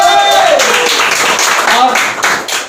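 An audience claps steadily and loudly throughout, a dense wash of applause at a team gathering of core leaders.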